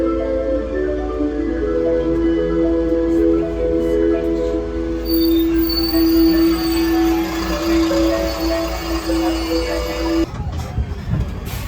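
Rumbling little tourist train on rails in Cannes, with long squealing wheel tones and steady mechanical clatter, loud and close, continuing throughout.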